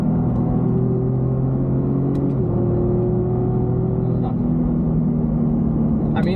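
A 2019 Ford Raptor on 35-inch all-terrain tires, held in manual second gear while its engine climbs toward redline on a canyon road. A loud, steady engine drone rises in pitch, then drops briefly at a shift and climbs again, heard from inside the cabin.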